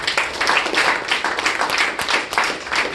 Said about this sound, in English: a round of applause for everybody